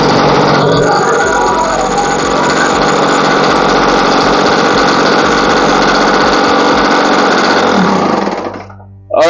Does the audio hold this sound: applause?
no